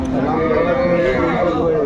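A cow lowing at Aftabganj cattle market, one sustained moo held for the whole moment amid market background noise.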